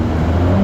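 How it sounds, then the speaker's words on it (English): A supercharged Yamaha WaveRunner jet ski engine revs steadily on choppy water with deep cavitation, a loud, continuous mid-pitched motor drone with a rising tonal whine, close and alone with no talk. "Oh, got some deep cavitation going on."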